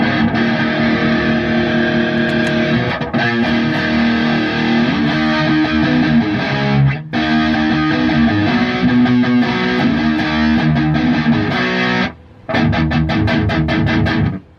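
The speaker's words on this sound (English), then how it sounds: "This is on, distortion pedal on with no changes to the EQ." A heavily distorted electric guitar, played through a distortion pedal with an MXR M108S ten-band EQ pedal set flat, plays sustained chords and riffs, loud and close, with a couple of brief stops before picking back up.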